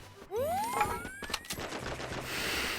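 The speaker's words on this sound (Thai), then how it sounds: "ยิงแรงมาก" Gunfire from the battle-royale video game Free Fire: a loud burst of rapid shots with a rising whine, followed by further scattered close shots and game noise.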